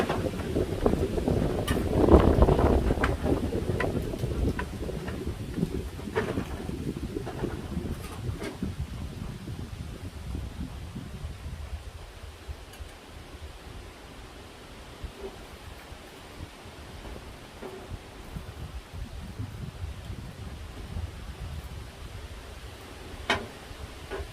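Wind picking up outdoors beside a Flattop griddle during brunch cooking, a broad rushing gust that swells early, then settles into a faint steady blowing with occasional small clicks.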